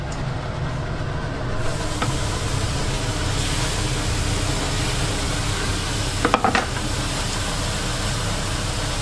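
Minced meat fries in a pan for a pie filling, with a steady loud sizzle and crackle throughout and a few brief scraping stirs near the end.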